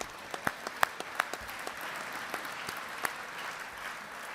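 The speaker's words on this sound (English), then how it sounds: "if I could ask you to give a round of applause as well to our divisional winners" An awards-evening audience applauds the divisional winners at the Football League Awards 2015: a steady, fairly soft wash of many hands clapping, with a few sharper individual claps standing out near the start.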